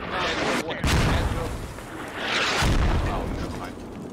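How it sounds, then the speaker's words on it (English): Mortar rounds bursting on a central farm building in the video game Squad, two deep, rumbling booms about two seconds apart that roll out and fade, heard from some distance. "Mortars on the central farm building."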